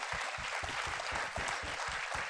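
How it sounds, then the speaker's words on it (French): Audience applause for the short-film competition jury at a film festival closing ceremony, steady dense clapping from a crowd throughout, fairly close and even in level. "Applaudissez-les"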